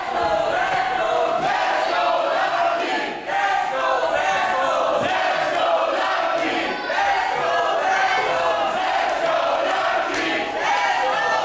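A wrestling crowd in Berlin roars steadily throughout a title match between John Klinger and Lucky Kid, with dense cheering, chanting and shouts from a split audience forming a continuous loud wall of noise.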